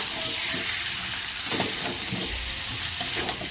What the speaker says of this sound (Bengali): আমি এখন মাংসগুলো দিয়ে দেবো এর মধ্যে, দিয়ে একটু ভালো করে নেড়ে ছেড়ে নেবো